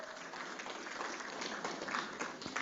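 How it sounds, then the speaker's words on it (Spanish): A church congregation applauding during a sermon, a broad, even patter of many hands clapping at moderate distance, continuous throughout the short stretch. "¿Cuántos pueden regalarle un fuerte aplauso a Jesucristo?"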